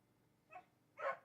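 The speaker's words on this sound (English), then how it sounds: "I can hear dogs barking." A dog indoors gives two faint, short barks, about half a second apart, the second louder than the first, against a quiet background.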